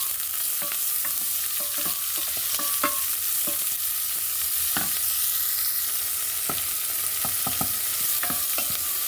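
Cut pepper simmering with yellow split peas in a pot, a steady bubbling sizzle with scattered pops and a few stirring clicks, close and continuous, with no talking.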